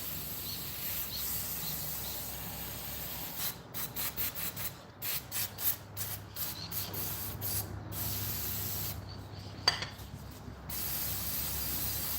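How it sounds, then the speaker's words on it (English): An aerosol can of degreaser sprays a heavy coating onto motorbike parts in a shed, a hiss broken into a quick run of short bursts and then one longer blast, over a steady low background hum. "Degreaser there, and give this a real good coating."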